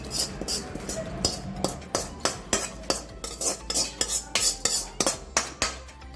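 Fried rice and lentils scooped out of a wok with a metal spoon, making a rapid series of loud scraping clanks against the pan over a faint sizzle, close and without talk.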